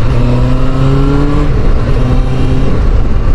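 A restored Suzuki GSX600F motorcycle with a new exhaust revs up close and loud, the engine note climbing, dipping and climbing again over a few seconds with no speech.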